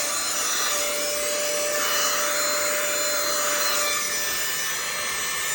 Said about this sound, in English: vacuum this a little bit and see what we do.